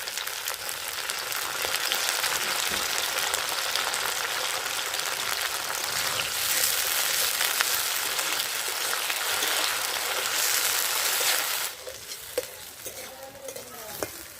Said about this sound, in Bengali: ফুলকপিটা হালকা ভেজে নিয়েছি